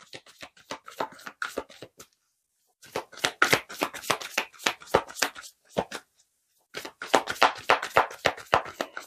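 Tarot cards riffle and slap in quick bursts of crisp flicks during shuffling and drawing, with two short silent pauses between rounds and no talk.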